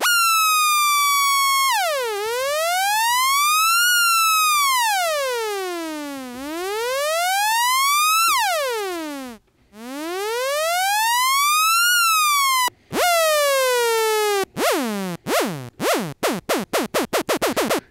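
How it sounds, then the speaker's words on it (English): Korg ARP Odyssey synthesizer with oscillator one's pitch swept by the ADSR envelope, loud bright tones swooping down and up in repeated arcs, then ending in a run of quick, ever faster blips; no voices. "we want to change the pitch of oscillator one over time, we would use the ADSR and it would sound like this."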